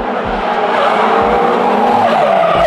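Drift race car tires skid and squeal loudly over a roaring engine at a drifting event, a continuous, close, harsh screech with no voices.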